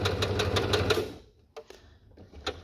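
A sewing machine runs a straight stitch while appliquéing fabric around a curve, a fast, even burst of needle strokes that stops, followed by a few isolated clicks and taps.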